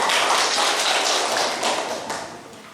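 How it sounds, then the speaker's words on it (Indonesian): A classroom of students claps for a classmate, a dense burst of many hands that fades slightly toward the end, close and loud. "kasih tepuk tangan dulu buat Deria"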